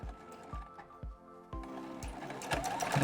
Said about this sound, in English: I'm just going to sew all the way around, joining these 5 pieces.